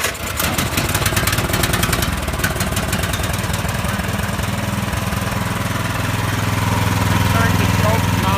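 A push snow blower's small engine runs steadily throughout, a loud continuous mechanical drone with fast rhythmic pulsing and some rattle, holding close and even from start to finish.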